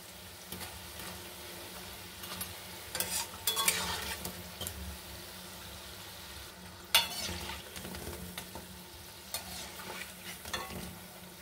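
Bombay bora fritters fry in hot oil with a steady soft sizzle, while a spoon scrapes and stirs the pan in scattered bursts, close and fairly quiet, with no voices.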